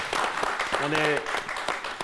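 Applause in a radio studio, several people clapping in a loose burst, heard close while someone speaks over and through it.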